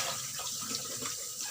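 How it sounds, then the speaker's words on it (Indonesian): An electric pump keeps a cat water fountain flowing, a soft, steady trickle and splash of water running close by without pause, faint and with no talking. "Ini pompa air yang airnya ini ya, supaya airnya itu selalu keluar."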